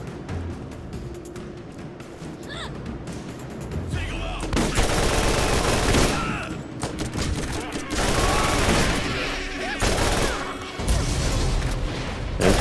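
Ajax's Spear, an Atlas combat rifle in Borderlands, fires in loud sustained automatic bursts with booming impacts, quieter lulls between volleys and no talk.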